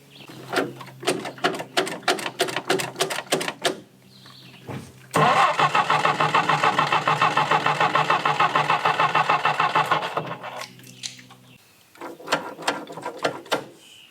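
A 1965 Jeep CJ5 left rusting in the woods has its key turned, and the starter cranks loudly in a steady rapid rhythm for about five seconds, bracketed by clicking and ratcheting mechanical taps before and after.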